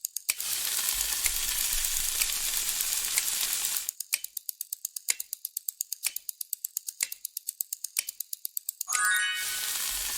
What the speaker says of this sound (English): That was food sizzling in a pan.